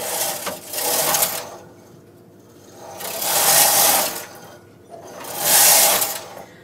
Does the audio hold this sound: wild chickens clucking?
no